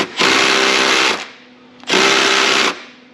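Two loud bursts, each about a second long, from an impact wrench with an extension working on a 1994 Jeep XJ 4.0 4x4. Each burst is a close, harsh buzzing whir with a short pause between.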